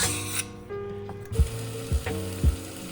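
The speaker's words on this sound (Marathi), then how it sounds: "हा जो आवाज येतो ना तळण्याचा" Fish frying in oil in a pan, a steady crackling sizzle broken by a few soft thuds and scrapes of a utensil in the pan, close and continuous.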